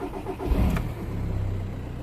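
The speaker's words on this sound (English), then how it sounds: "So it's gonna start the engine," A Volkswagen Golf 1.9 TDI diesel with a long-cranking, hard-starting fault turns over briefly and catches, then settles into a rough, steady idle close by.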